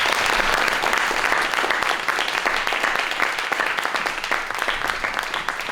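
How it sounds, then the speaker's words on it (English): Sustained applause from a festival panel audience, dense steady clapping throughout, fairly loud and close with no pauses. "a great applause to my 3 panelists"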